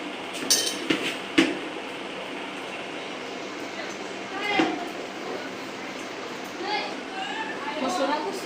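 Puffed rice (mamra) chevdo stirred in a pan with a metal spoon, giving a few sharp clinks and scrapes early on, then soft rustling and occasional taps while someone talks.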